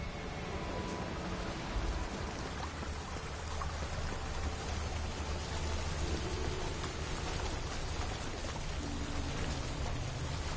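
Steady rain pours in The Witcher 3, a continuous dense hiss of drops on surfaces with low rumbling beneath, evenly loud throughout.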